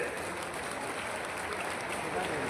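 A crowd at a political rally in Sendhwa claps loudly and steadily for a few seconds, a dense sustained wash of applause.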